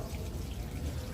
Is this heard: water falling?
yes